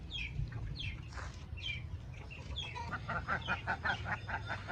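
Turkeys and chickens clucking and chirping in a farmyard, several short calls in quick succession over a steady background noise, moderately close.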